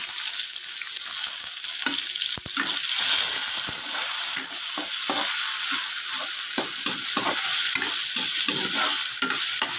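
Onions and tomatoes sizzle steadily in a frying pan while being cooked for tilapia sinigang, with a continuous frying hiss broken by frequent stirring scrapes and clatters, close and alone without talk.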